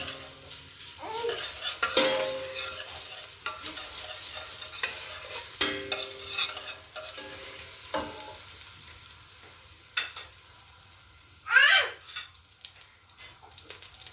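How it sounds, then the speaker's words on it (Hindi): Garlic sautéing in oil in a pan gives a low, steady sizzle, with scattered stirring clatter and a sharp metallic scrape near the end, heard up close with no talking. "सबसे पहले मैं इसमें डालूँगी 1 टीस्पून गार्लिक और इसको हल्का सा सौटे करूँगी"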